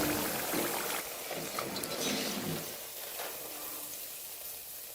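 Potato pakoras fry in hot oil with a steady, dense sizzle and crackle that fades somewhat toward the end, heard close and alone.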